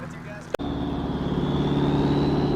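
A Subaru WRX with a hood exit exhaust and wastegate, heard from inside the cab, gives a sharp pop and then a steady droning engine hum that rises slightly while driving, loud and close.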